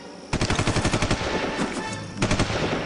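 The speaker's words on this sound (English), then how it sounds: "We will return fire." Rapid machine gun fire as a sound effect in a radio drama set in a wartime cave standoff, loud and close in two sustained bursts of rattling shots with a brief lull between them.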